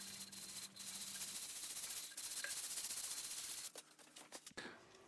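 Wood is sanded with fine-grit sandpaper up to 800 grit. The paper makes a steady, close rasping rub that runs almost without pause and then breaks into a few short strokes near the end.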